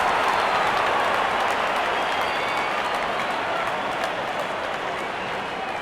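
A cricket crowd at a West Indies versus Australia match applauds and cheers after a six, a broad sustained roar of clapping that stays loud and then slowly eases over several seconds.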